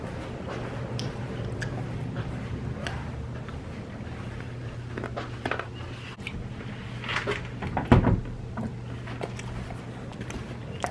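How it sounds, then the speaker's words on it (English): A person chewing food close to the microphone, with soft, intermittent squishy bites and mouth sounds over a low steady hum and no talking. "okay, I'm still chewing."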